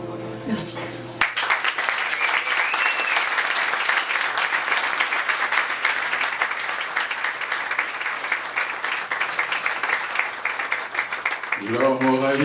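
An audience applauds a poet at a poetry evening celebrating a third anniversary, with dense sustained clapping that fills the room for about ten seconds before a voice begins speaking.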